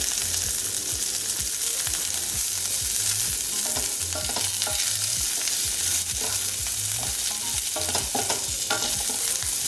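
Chopped onion and capsicum stir-fry over high heat for baby corn chilli, a loud steady sizzle with a quick, regular rhythm of spatula scrapes and clatters against the pan, close and uninterrupted by talk.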